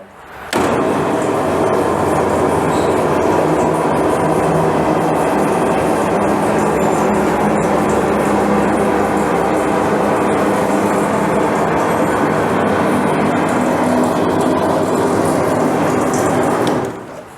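A workshop car lift raises a Mercedes 190 with a long, steady mechanical drone and rattle that starts abruptly, holds evenly for about sixteen seconds and cuts off, with no talking.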